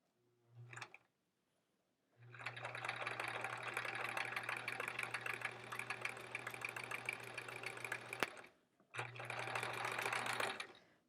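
A sewing machine stitches quilt blocks in a quilt-as-you-go sampler, with a short burst followed by one long, steady run of stitching. After a brief pause it starts another sustained run, loud and close.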